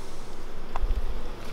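Honey bees buzz steadily at a beehive frame, a close, continuous drone from many insects with no talk over it.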